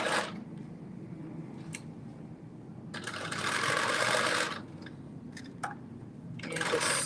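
A sewing machine stitches a sleeve into a bodice in short bursts of whirring needle runs, separated by quieter pauses with faint handling sounds, fairly close and with no talk.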